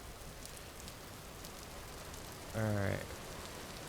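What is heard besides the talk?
rain in a video game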